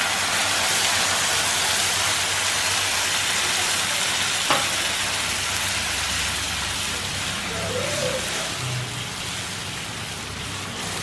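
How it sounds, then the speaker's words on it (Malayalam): Water poured into hot frying masala for pork vindaloo sets off a steady broadband sizzle, loud and continuous, with a brief clink of a utensil partway through. "അപ്പോൾ കുറച്ച് വെള്ളം ഒഴിക്കുന്നുണ്ട്."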